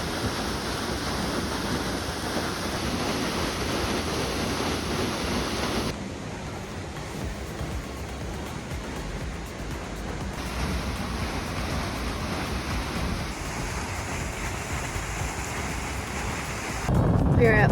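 Ocean waves crash steadily against the rocky shore at Boiler Bay on the Oregon coast, a loud continuous roar of surf mixed with strong wind buffeting the microphone, with a heavier surge near the end.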